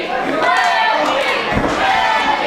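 Crowd at a Halloween-themed pro wrestling show, MWO Trick Or Slam 2016, roaring and chanting loudly throughout, a dense sustained wall of voices with a dull thud near the middle.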